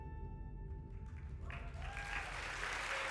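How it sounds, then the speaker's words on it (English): Audience at a colorectal cancer research foundation gala applauds Sandy; the clapping starts faint and distant, then swells and grows denser and closer, with steady tones in the background. "Big round of applause for Sandy."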